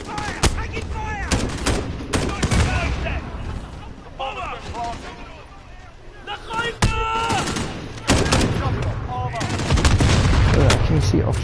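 Gunfire in an intense firefight, with repeated sharp shots and machine-gun bursts, some close and loud, others farther off, while voices shout over it.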